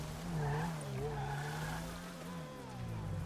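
Car tires skidding and squealing in Grand Theft Auto V, a wavering screech that rises and bends over a steady engine drone, loud and continuous throughout.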